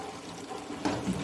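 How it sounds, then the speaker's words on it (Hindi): Water is poured into spiced masala, with garam masala, frying in a pan for kofta curry. It lands as a short, close splash and sizzle, with no voices. "थोड़ा थोड़ा साथ पानी डालेंगे ताकि मसाला ना जले।"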